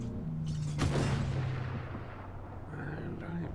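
An artillery strike lands in the Armored Warfare tank game as one heavy, close boom. It is followed by a broad rumbling decay over a continuous engine drone.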